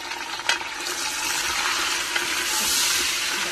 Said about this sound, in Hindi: गोश्त और हमने जिंजर और गार्लिक पेस्ट डाल के इसको अच्छे से हमने भूनना है गोश्त को